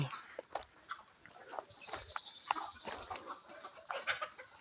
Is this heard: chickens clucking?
yes